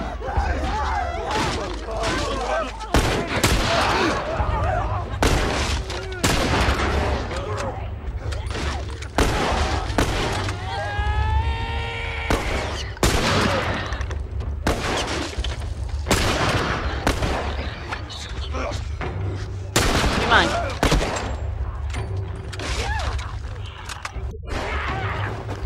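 Rifle gunfire in The Last of Us, a run of sharp, loud shots scattered irregularly across a tense firefight, some in quick bursts, with voices talking between and over the shots.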